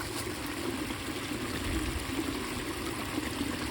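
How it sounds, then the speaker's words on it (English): Water trickles and splashes steadily over a tiny waterfall in a North Georgia creek, a soft, constant rushing like a small cascade over rocks, with no voices. "Look, we have a tiny waterfall on this one."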